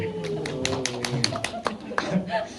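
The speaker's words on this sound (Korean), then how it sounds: "박수를 치고 그래요" A few scattered claps from an audience at a humanities talk-concert in Yangju, light and irregular, sounding under a man's ongoing speech.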